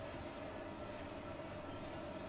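The drum of an RT38 coffee roaster runs during a first roast, giving a steady, even mechanical hum and rumble with a faint tonal whine that holds unchanged throughout, fairly quiet and without talking.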